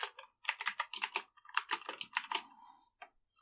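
A password being typed on a computer keyboard while coding in Go, with quick, close key clicks in bursts, a brief pause in the middle, and one last isolated keystroke.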